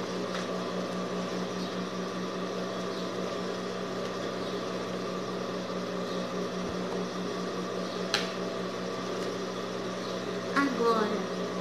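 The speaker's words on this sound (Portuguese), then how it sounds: "Passo o overlock." Overlock serger stitching along the seam of a pair of shorts after the crotch rise is lengthened, a steady motor hum with a faint regular mechanical beat, continuous and fairly quiet throughout.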